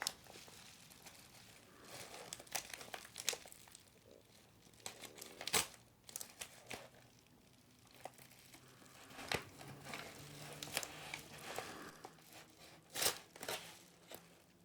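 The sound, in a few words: ripping open packaging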